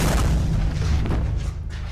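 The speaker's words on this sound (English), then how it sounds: "That was a bomb." A bomb explosion lands as one deep, sustained boom with heavy low rumble filling the whole moment, loud and close, with no voices over it.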